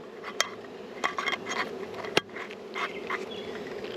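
Honeybees buzz steadily around an open hive during feeding, a continuous close drone broken by sharp clinks and knocks of jars, lids and equipment being handled.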